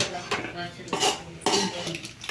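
Macaroni coated in tomato paste is stirred in a pan, with a spoon scraping and knocking against the metal in several distinct, close strokes over a quiet kitchen background.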